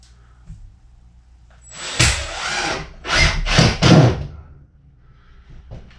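A power drill drives screws into wood while renovating an abandoned cabin, with several loud whirring bursts around two to four seconds and quiet gaps before and after.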